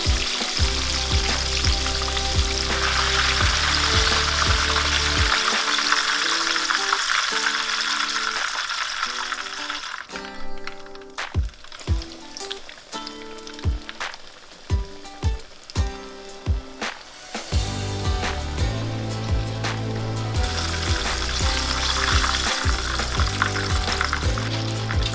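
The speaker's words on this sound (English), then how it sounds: "You're just doing shallow frying and you want to get it to about 320 to 340 degrees Fahrenheit." Food shallow-frying in a pan of hot grease gives a loud, steady sizzle with crackling, broken midway by pops and clicks before the hissing returns over a background of music.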